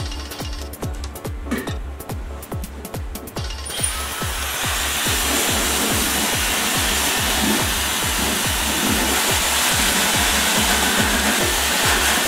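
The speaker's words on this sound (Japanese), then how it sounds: "ヘナウォーターつけて乾かします" A hair dryer drying hair after henna water is applied, steady close blowing hum that grows louder and fuller partway through as the airflow is directed at the hair, with no talking.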